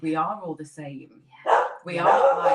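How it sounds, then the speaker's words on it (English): A pet dog barks a couple of times in quick succession indoors, overlapping someone speaking during a spiritual workshop session. "I'm so sorry about my dog."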